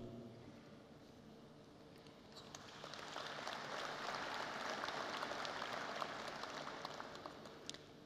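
Audience applause rising from a quiet start into a steady, broad wash of clapping that holds to the end, heard from a distance in a large hall at a Kwibuka30 genocide commemoration.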